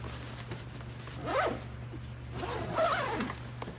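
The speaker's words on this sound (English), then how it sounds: "Zip that back up." Zipper closing on a Legend Outdoor DOUBLE2 compound bow case, two drawn-out rasping pulls close by over a steady low hum, no speech.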